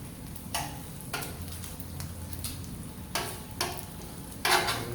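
Bacon frying on a Blackstone griddle, with a steady low sizzle and several sharp spatula scrapes and flips spaced irregularly across the clip, close up and without talk.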